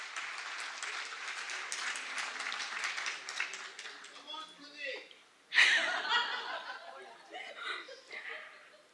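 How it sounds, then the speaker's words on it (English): A crowd applauds at a medical department's centenary alumni celebration: steady dense clapping for several seconds fades out, then a brief burst of chuckling and laughter follows with scattered voices. "Big round of applause, guys."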